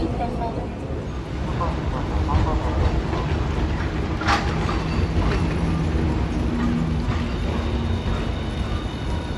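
A Hiroshima Electric Railway tram passes at Hiroshima Station at night with a loud, steady rolling rumble and faint wheel squeal, while a recorded voice announcement plays over it.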